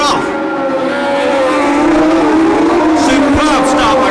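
Formula One race car engines scream and rise together as the pack accelerates away from the grid at a Grand Prix start, with a commentator talking over the roar.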